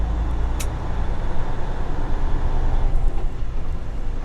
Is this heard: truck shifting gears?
yes